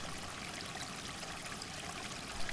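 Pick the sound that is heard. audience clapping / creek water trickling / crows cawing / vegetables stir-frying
creek water trickling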